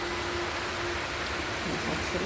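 Steady hissing rain, an even wash of noise with no pauses, fairly close and constant throughout.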